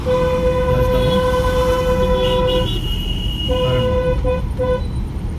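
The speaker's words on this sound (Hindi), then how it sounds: "हॉर्न मारो" During a driving lesson, a car horn sounds in two steady blasts, a long one and then a shorter one after a brief gap, over road and engine noise.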